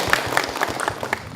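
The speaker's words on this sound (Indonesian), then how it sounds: "Kasih tepuk tangannya Bu." Applause from the audience at an Islamic religious study gathering, a moderate patter of clapping with a few sharper individual claps standing out and a faint crowd murmur beneath.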